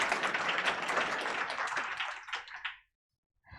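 Audience applause at a start-up networking night in The Hague, steady broadband clapping for nearly three seconds that cuts off abruptly, followed by brief silence and a faint new sound at the end.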